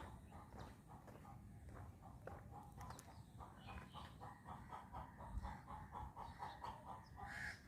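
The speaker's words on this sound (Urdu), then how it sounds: "مرغیاں بول رہی ہیں، مرغیاں ہیں، مرغے ہیں" Chickens and roosters clucking somewhere near homes during a rainy walk, a steady run of short repeated calls over a constant background wash, with occasional footsteps mixed in.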